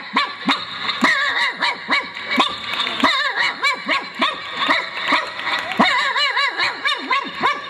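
A comedian on a Malayalam comedy stage mimics a native street dog barking with his voice, giving a rapid run of loud, close yaps and barks with short gaps between them.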